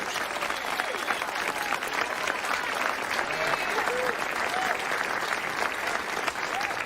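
Audience applause welcoming a mayor on stage at an evening event, a dense, steady wash of clapping from a large crowd that stays loud and even for the whole stretch.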